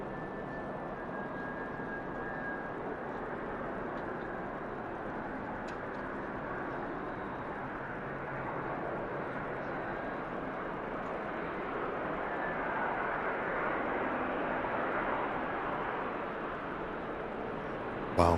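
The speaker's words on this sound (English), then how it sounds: "Do have this Virgin A350 though" A Virgin Atlantic Airbus A350 descends on final approach into Manchester Airport. Its engines make a faint, distant, steady rumble with a thin whine running through it, and the noise swells slightly toward the end.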